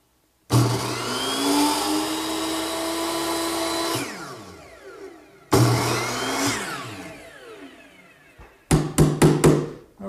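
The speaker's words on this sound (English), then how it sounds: "I'll just take it over to my miter box, which has been set at the right angle, and this is where I'll make all my cuts" A power miter saw cuts window stop molding: two loud whining runs, each spinning up, biting and winding down, then a quick series of sharp knocks and short bursts.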